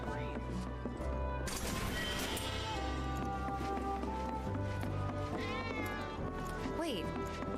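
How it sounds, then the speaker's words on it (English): A cat in the Final Fantasy 7 Remake video game meows repeatedly, loud and close, woven into the game's busy music and effects, with character voices talking over it. "Cats might be nearby."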